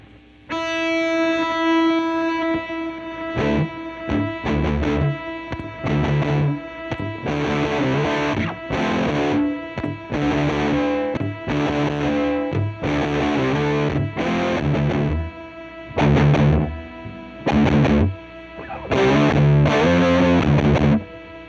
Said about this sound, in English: if you are playing and you hit that button that says sustain, it will play whatever the note was that it last heard